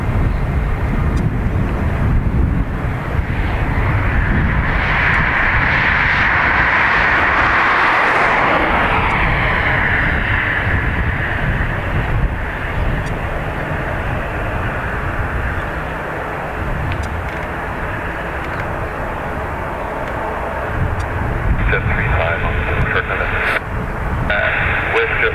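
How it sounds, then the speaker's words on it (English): A Ryanair jet airliner taking off for Barcelona from Dublin Airport, a loud, steady, close engine roar sustained throughout, with a swell and a slowly shifting whine as it passes. "Ryanair off to Barcelona."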